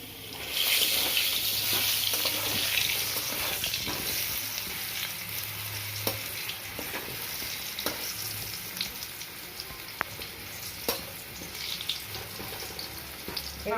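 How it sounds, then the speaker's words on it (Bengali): Chunks of potato fry in oil in a kadai with a little turmeric, giving a continuous close sizzle and crackle with occasional sharp clicks and spatters. "আলুগুলো লাল লাল করে ভাজা হয়ে গেছে।"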